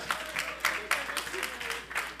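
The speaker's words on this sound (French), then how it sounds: "Clap for her." Church congregation clapping during a bilingual sermon, a few loose bursts of applause with distinct sharp claps, mixed with talking throughout.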